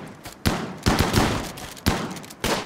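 Gunfire from the video game Rimworld: several sharp, loud shots fire in an irregular sequence, each with a sudden attack and a short reverberant tail over a steady background of game ambience.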